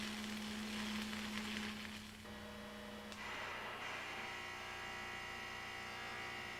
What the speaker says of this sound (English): A good arc is accompanied by a crisp, crackling sound similar to bacon frying.